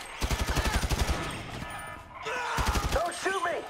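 Rapid automatic gunfire in the video game GTA 5, a burst of evenly spaced shots followed by a second burst, loud and close, with shouting voices over the shooting.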